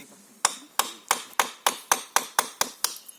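Hammer striking a slate roof tile at a Travassac quarry workshop, nine sharp, evenly spaced blows ringing out close and loud with no talk.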